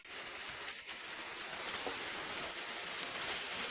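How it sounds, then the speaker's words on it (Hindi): Heavy rain pours down in a dense, constant hiss, broad and steady without breaks, heard alone at a fairly low overall level. "बारिश बहुत तेज हो रही है"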